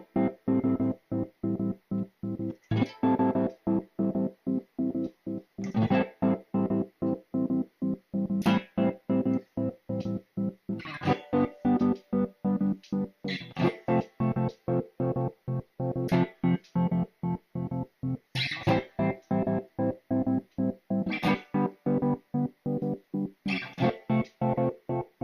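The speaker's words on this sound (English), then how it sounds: "use these buttons to decide which of the 16 steps we actually want to turn on, which means we can get some sort of stuttering effects" Guitar run through a Korg Monologue step sequencer, chopped into a stuttering rhythm of sharp, evenly spaced gated pulses that keep going at steady volume, with no talk over them.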